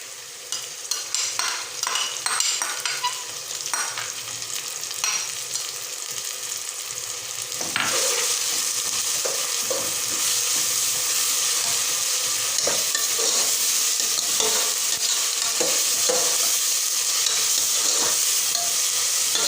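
Garlic-ginger paste sizzles and spatters in a hot pan, with occasional stirring scrapes; the frying grows louder and steadier midway and continues without any voices.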